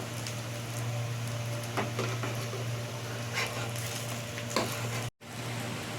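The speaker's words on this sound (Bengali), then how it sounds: "আর দুটো বাকি ছিল, এই দুটোকেও আমি ভেজে নিচ্ছি।" Potato and semolina sandwiches fry in a shallow layer of oil, giving a continuous close sizzle with a few louder crackles and a brief cut near the end.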